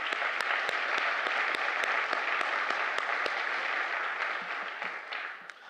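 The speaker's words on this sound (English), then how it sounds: "So, round of applause for all of our speakers this week." A conference audience at a live-streamed tech event applauds the week's speakers, a dense sustained wash of clapping with sharp individual claps standing out, fading toward the end.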